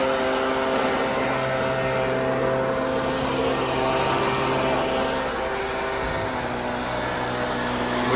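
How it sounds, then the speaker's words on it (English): Compressed air blasting steadily over an emptied farm trailer to clear leftover rapeseed, a loud, continuous rushing hiss with an engine hum beneath it, close and unbroken throughout. "We blow down every trailer load"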